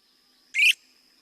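A single loud, brief 'reep' bird call rings out clearly against a quiet background with a faint steady high whine, and no voices are heard.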